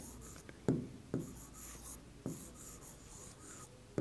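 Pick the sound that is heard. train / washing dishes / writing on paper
writing on paper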